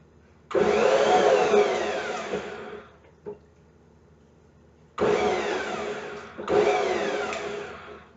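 A lidded mixer blends a honey mixture in loud, steady whirring runs. The first run lasts about two seconds, then stops, followed by a pause and two more bursts, each starting abruptly.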